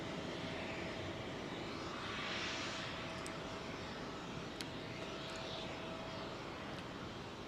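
A British Airways Dreamliner departing overhead Heathrow's 09R runway, a faint, steady jet engine roar that swells gently as it passes.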